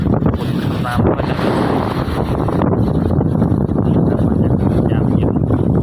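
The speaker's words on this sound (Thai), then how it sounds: "บรรยากาศลมแรงมากคลื่นแรง" Strong wind and rough waves at the Bang Khun Thian seaside in Bangkok make a loud, constant roar, with heavy wind buffeting the microphone throughout.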